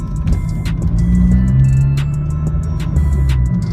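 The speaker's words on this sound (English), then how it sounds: "That was 2nd gear, simple as that, going over roundabout." A Vauxhall VXR with a loud modified exhaust drones close, its engine note rising as it accelerates steadily in second gear over a roundabout, with no talking.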